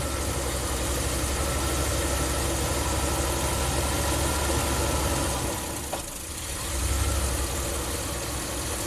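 A Ram camper van engine, which stalls after a hot soak, runs at slightly raised revs from the throttle, giving a steady close mechanical drone with a small dip and swell near the end.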